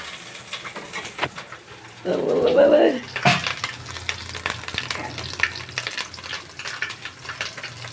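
Small kachki fish frying in oil while biryani is being cooked, a burst of loud sizzling that swells for about a second, then settles back to a quiet kitchen background.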